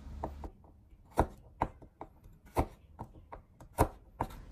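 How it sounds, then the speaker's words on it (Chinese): A knife chops garlic cloves on a cutting board in sharp, uneven knocks, about a dozen close, crisp strikes over a quiet background, with no talk. "再准备一小把大蒜籽，同样的把它切成均匀大小的蒜粒"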